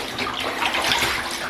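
Cold water with white vinegar sloshing in a tub as guinea pig fleece bedding is washed by hand, a steady close splashing and swirling wash throughout.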